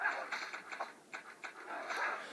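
Dogs in the Order & Chaos game, a run of short yips and whimpering barks with panting at moderate loudness, fairly steady across the moment.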